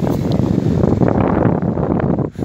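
A light breeze blows steadily by the sea at Ayvalık Altınova, a continuous low rumble of wind against the microphone with faint wave wash underneath.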